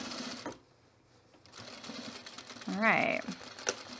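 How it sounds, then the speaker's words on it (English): A sewing machine stitches along a seam of a quilted puffer vest with short bursts of close mechanical whirring and a clicking hum, broken by a brief pause, while someone talks briefly. "Start sewing a little bit and get it right past that seam best I can."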